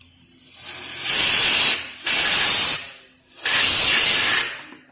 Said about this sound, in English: I spray a little bit.